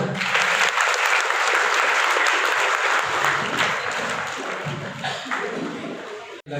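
A gathering at a press club event for journalists breaks into loud, sustained crowd applause that holds steady for several seconds, then thins and fades toward the end.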